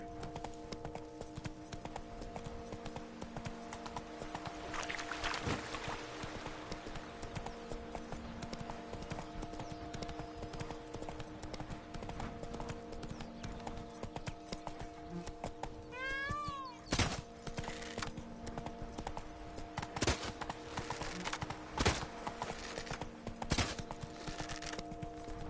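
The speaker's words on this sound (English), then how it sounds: "Run, Roach." A horse galloping in The Witcher 3 video game, rhythmic hoofbeats running steadily over game ambience with occasional louder clatters and a brief chirping sound midway.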